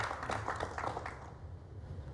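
An audience at a televised Indonesian political talk show breaks into faint applause, scattered claps fading out over a couple of seconds with no talking.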